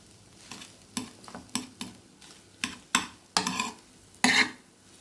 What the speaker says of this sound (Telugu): ఇది ఫుల్ ఫ్లేమ్ మీద పెట్టి కలుపుకోండి.